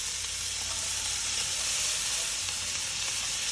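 Chopped onion sautés in a hot pan, giving a steady, even sizzle and hiss that holds at close range throughout.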